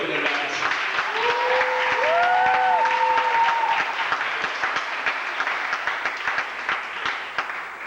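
An audience at a university event for African and Caribbean students applauds loudly in a sustained wash of clapping and cheering, with a rising whistled or sung tone over it early on, fading slightly toward the end.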